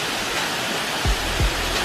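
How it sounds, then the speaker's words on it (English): Samui waterfall in Thailand roaring with a steady broadband rush of falling water, close and continuous, with a couple of brief low thumps near the end. "We're at the Samui waterfall too."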